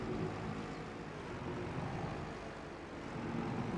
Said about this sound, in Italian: Vi sto facendo ascoltare il suono.